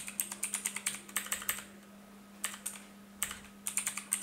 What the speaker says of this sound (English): and I'm typing here